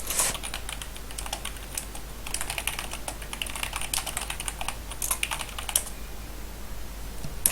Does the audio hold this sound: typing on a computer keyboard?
yes